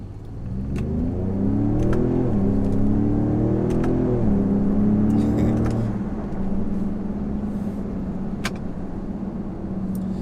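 A Ford Raptor pickup truck's engine accelerating in manual mode, loud and close, revving up through several gear shifts with rising pitch, then settling into a steadier cruising drone.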